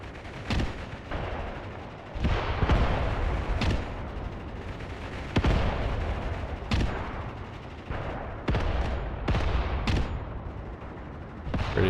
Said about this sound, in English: Now machine gun fire is coming here from the strong point, or towards the strong point.